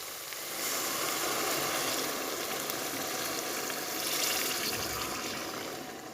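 Chicken stock poured into a pot of urad lentils (daal mash), a steady, close, rushing splash and trickle running for about five seconds with no talk.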